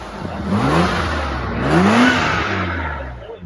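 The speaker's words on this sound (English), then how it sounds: "That's really smooth, isn't it, for 12 cylinders? I mean, that just feels like turbine smooth." A smooth-idling 12-cylinder BMW engine runs with a steady low hum, swelling slightly in a gentle rev around the middle, close and continuous without any talk.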